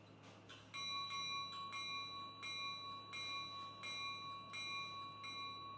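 A bright electronic locomotive bell from the sound decoder of a Rapido SD10 model locomotive rings in a steady, repeating rhythm, about eight strokes, clear and close over a low background hum.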